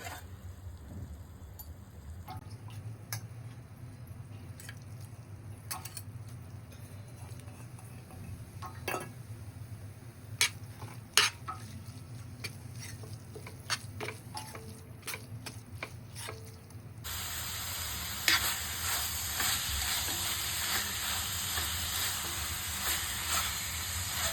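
Minced chicken kheema meets hot oil and roasted spices with a steady, close hiss that jumps louder near the end, scattered earlier with the clinks and ticks of a utensil against the pan and no talk.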